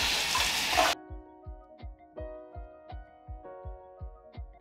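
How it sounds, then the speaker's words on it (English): Water poured and drained from a can of black beans, a short burst of rushing splashing followed by a series of regular dripping plinks into a sink, fairly quiet and close. "and drain the water from black beans."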